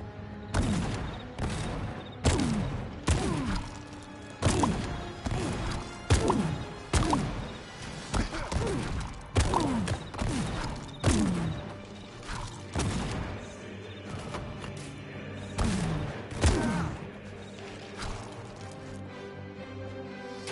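Gunfire in Funko Fusion arrives as repeated sharp shots at fairly regular intervals, loud and close, each with a short booming tail, over a steady game background.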